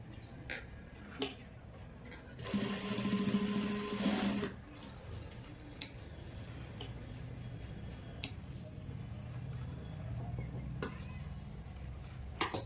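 A sewing machine stitches a trouser waistband strip in one steady burst of about two seconds, near and clear, with soft handling ticks and quiet room noise before and after.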